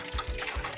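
Water draining out of a flood-damaged Lotus Esprit through a drain hole and splashing into a drain pan, a soft steady trickle with low irregular splats, close by and fairly quiet.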